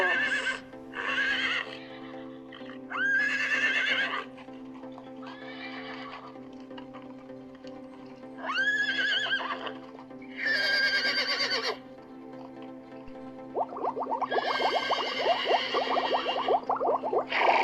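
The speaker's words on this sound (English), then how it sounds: "Horse." A horse neighs repeatedly in a cartoon of farm animals, several loud whinnies separated by pauses, ending with a long trembling whinny over a steady low hum.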